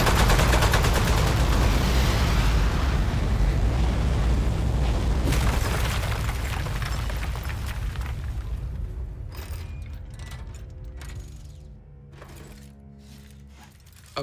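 Heavy video game gunfire rattles in dense rapid bursts with booming blasts, loud and continuous at first, then thinning and fading into scattered distant shots.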